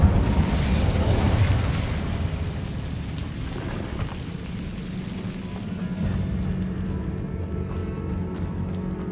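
The Incendio fire spell bursts out loud at first in Hogwarts Legacy, then settles into a lower, continuous roaring crackle that fades and lingers.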